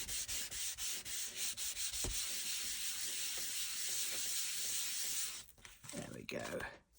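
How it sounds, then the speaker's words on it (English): Alcohol pen artwork on vellum is burnished with a steady, close, loud rubbing that runs for about five seconds and then breaks into a few shorter strokes. "I'm just going to give that a good burnish."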